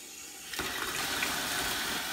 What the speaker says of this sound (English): So let me go ahead and turn on the water.